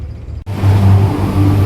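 The four-cylinder engine of a New Holland Ford 3600 tractor kicks in abruptly and holds a loud, close, throbbing rev with a steady low drone that swells slightly.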